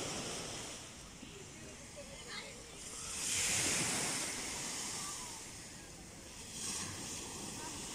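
Sea waves wash onto a hot sandy hotel beach at Alanya, Antalya, Turkey, a soft steady surf hiss swelling twice into louder breaking rushes, with wind noise on the microphone throughout.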